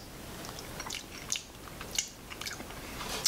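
Close, quiet chewing of cooked herring fish adobo, with soft wet bites and small crunchy clicks in an irregular rhythm and no talking.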